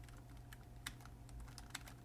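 Quiet keystrokes on a computer keyboard, a handful of soft, irregular clicks close by over a low steady hum, no voices.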